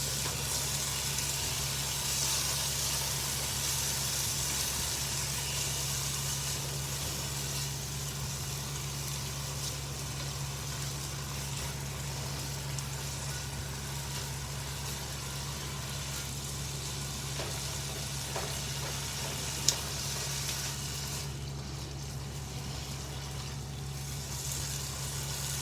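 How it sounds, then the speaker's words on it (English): Peas sizzle steadily in hot masala in a pan while matar paneer cooks, a continuous soft hiss and bubbling with a low hum underneath and no talking. "We're gonna add peas in there."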